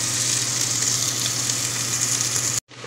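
Sliced onions frying in olive oil give a steady, close hiss and sizzle that runs evenly, then drops out briefly near the end before returning softer.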